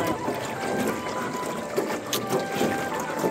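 A boat on the Tam Coc river ride in Ninh Bình gives off a steady, continuous hum with water wash that runs without a break throughout.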